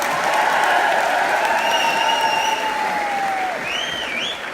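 An audience at a Delhi wellness company show gives loud, sustained applause for an honoured guest, dense clapping with a few whistles rising over it before it gradually thins.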